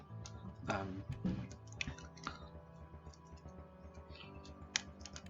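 Scattered light clicks and taps, a few sharper ones standing out, close by with some faint background noise.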